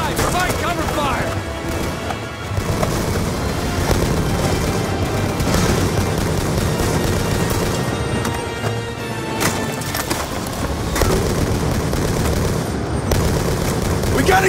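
Continuous heavy gunfire in a Black Ops 2 campaign battle, overlapping rifle and machine-gun bursts with booms, loud and dense throughout, with soldiers shouting over the fighting.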